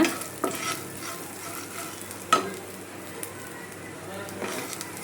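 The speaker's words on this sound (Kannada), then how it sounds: "ಇನ್ನು ಇದನ್ನು ಚೆನ್ನಾಗಿ ಫ್ರೈ ಮಾಡ್ಕೊಳ್ಳೋಣ." Fenugreek masala frying in a pan for a Mangalore-style fish dish gives a soft, continuous sizzle with a few sharp stirring clatters against the pan.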